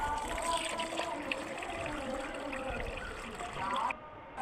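Chopped vegetables being washed by hand in water, heard as a continuous close trickle and slosh of water with some handling noise, while a person talks.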